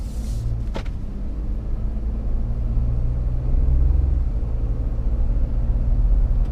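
A 2015 Ford F150 XL pickup truck with a 2.7 engine driving along, a steady low engine rumble and road noise from inside the cab, with the pitch rising slightly as it accelerates.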